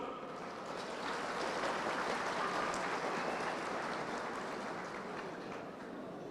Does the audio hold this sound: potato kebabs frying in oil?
no